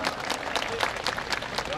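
An audience at a Busan civic security rally gives dense, lively applause, a continuous crowd of clapping hands heard up close.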